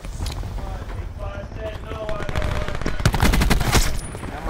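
Gunfire during a competitive match of Call of Duty Black Ops 4, scattered shots and short bursts growing denser and louder toward the end, mixed with game noise.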